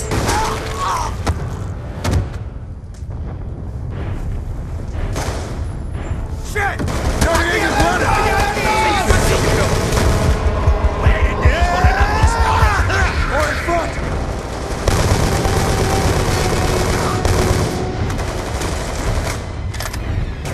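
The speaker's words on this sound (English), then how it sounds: "Gunshots came from inside." Bursts of automatic gunfire and heavy booms echo through a loud, cluttered battle scene in Call of Duty: Black Ops II, with voices talking over the shooting throughout.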